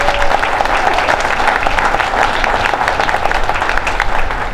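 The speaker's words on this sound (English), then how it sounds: "Give them a nice round of applause." Sustained audience applause fills a stadium ribbon-cutting ceremony for a minor league baseball park, steady dense clapping from a large crowd lasting throughout without pause.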